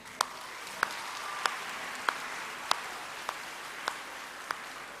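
At a school Onam celebration for young children, sharp claps land together in an even beat, about one every half second, with a steady room hum behind them.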